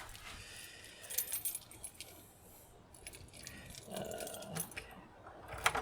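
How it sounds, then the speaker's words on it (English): A bunch of keys jingles and clinks in bursts as they are pushed into a door lock, close and fairly quiet, with small metallic rattles scattered throughout. "Put the keys in."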